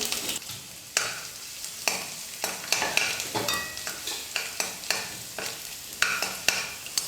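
Chopped garlic and ginger sizzle in hot oil in a kadai while a spoon scrapes and stirs them in regular strokes, each stir bringing a sharp scrape over the constant frying crackle.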